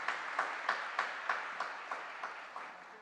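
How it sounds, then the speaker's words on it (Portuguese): A congregation at a Catholic church talk claps in applause, with regular accented claps about every third of a second standing out over a continuous wash of hands, fairly faint and steady for three seconds with no speech. "aplauda de verdade a palavra de Deus"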